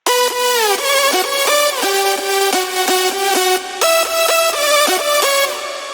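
A stacked synth lead from a progressive house drop made in FL Studio plays a bright, loud melodic line of sustained notes with quick pitch steps, alone and unbroken.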